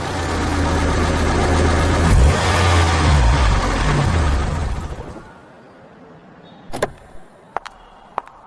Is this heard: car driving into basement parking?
yes